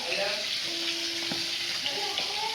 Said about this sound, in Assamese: মই ফ্ৰাই কৰি আছোঁ